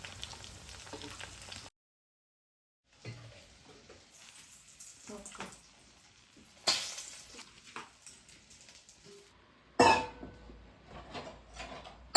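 Aloo corn tikki patties fry in a pan with a soft, low sizzle that stops briefly and resumes, broken by a few sharper clanks of utensils against the pan.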